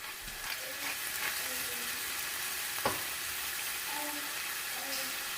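Chicken sautéing in a pan for a queso blanco dip, a steady close sizzle and fry hiss running the whole time with light stirring clinks and scrapes, no voice.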